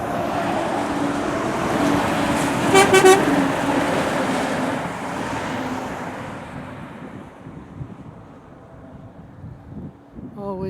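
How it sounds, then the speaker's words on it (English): An Ayrshire lorry from Cumnock passes on the A17 at Bicker, its loud engine and tyre roar sweeping by up close, with a short multi-note horn toot near the start before the noise fades into wind. "An Ayrshire truck now."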